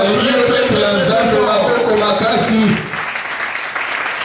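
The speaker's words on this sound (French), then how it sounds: "Est-ce qu'on peut acclamer très fort?" A church congregation applauds loudly, a dense, steady roar of clapping mixed with cheering voices that stops sharply after almost three seconds and leaves quieter room noise.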